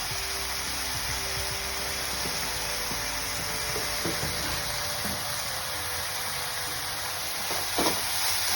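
Chicken dhansak masala cooking in a pan, a soft continuous sizzle with a few small clinks and scrapes, quiet and close with no talking.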